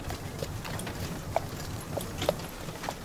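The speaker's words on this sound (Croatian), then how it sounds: "Tu iznad mog uzglavlja slijevali su se zvukovi konjanika i karavana." Horse hooves clip-clop at a steady walking pace over a soft rumbling background, with a few sharper hoof strikes standing out; no talking.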